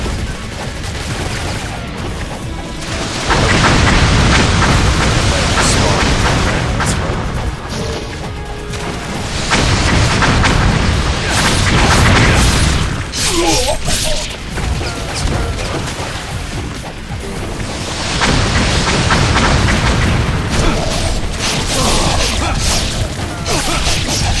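Rockets explode around the player in Ninja Gaiden II, producing loud, dense bursts of crashing blasts and debris in long waves, separated by brief lulls.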